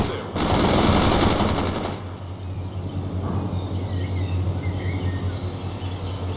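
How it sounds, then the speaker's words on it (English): Machine gun fire in the war video game World in Conflict, a loud sustained burst lasting under two seconds, followed by a steady battlefield rumble with faint distant noises and no talk. "Fire some machine gun."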